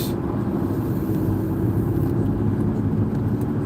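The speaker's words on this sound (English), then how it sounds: "we got a lot of traffic in town for some reason" Steady low rumble of road traffic moving through a town, vehicles droning continuously close by with no clear pauses between them.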